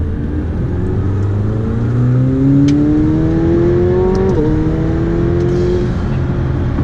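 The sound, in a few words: McLaren 720S sports car engine accelerating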